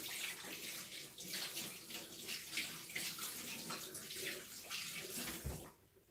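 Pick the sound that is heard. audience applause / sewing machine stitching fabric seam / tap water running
tap water running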